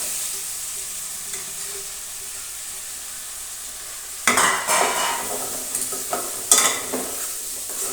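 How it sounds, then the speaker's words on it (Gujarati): Quiet frying gives way to a loud sizzling burst as potatoes and peas drop into a hot pan for a potato-pea curry, followed by close scraping stirs and a second sharp sizzle, with no talking. "હવે આપણે નાખીશું બટાટા અને વટાણા"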